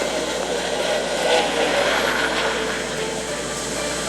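A helicopter flying in the MMO game Duel Revolution, a steady whooshing rotor and engine drone that holds evenly throughout, fairly loud with a faint voice underneath.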